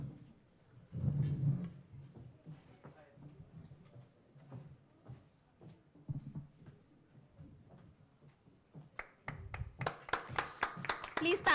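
An audience at a school innovation summit panel discussion gives scattered, faint claps under a speaker's voice, building near the end into a clearer run of rapid clapping.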